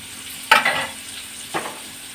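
Curry leaves tossed into hot oil give two quick crackling sizzle bursts, a sharp spitting flare followed about a second later by a smaller one over a low steady frying hiss.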